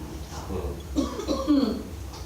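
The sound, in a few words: cough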